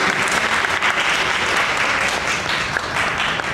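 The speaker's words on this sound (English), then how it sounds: "please give him a thunderous round of applause for a wonderful speech" An evening audience at a youth Toastmasters leadership program gives a speaker a sustained round of applause, dense steady clapping from many hands filling the room throughout.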